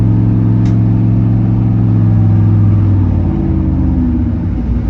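Turbocharged 4.8 engine in a Chevy S10 with a TH400 transmission drops from third into second gear, a loud, steady low engine drone that shifts pitch as the gear changes, no talking.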